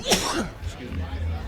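A single sharp sneeze bursts out at the start at a curling bonspiel semifinal, followed by low murmuring voices and arena background noise.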